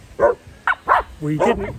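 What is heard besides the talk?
dogs barking in a van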